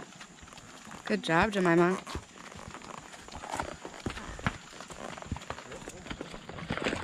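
Horse hooves squelch and thud through a muddy section of a trail ride in Tennessee, soft irregular steps close by, with someone speaking to the horse and a brief higher voice sound near the start.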